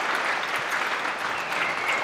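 A crowd at a real tennis match applauds and cheers steadily, a dense, sustained wash of clapping that holds at an even level for the whole stretch without a break.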